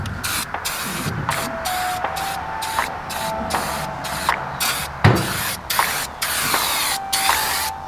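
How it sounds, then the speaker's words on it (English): Rust-Oleum truck bed liner sprayed from an aerosol can over rusty truck bed holes outdoors, a series of repeated close hissing bursts with short pauses between them and wind in the background. "we're painting right over the rust holes"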